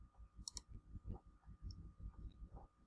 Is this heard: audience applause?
no